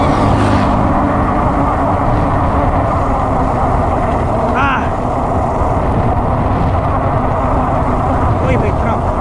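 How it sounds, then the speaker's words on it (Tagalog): A truck passes on a hilly road near Tila Pilon Hills, Bulacan, its broad engine rumble steady and close under continuous road and wind noise, with a brief higher whine midway. "Uy, may truck."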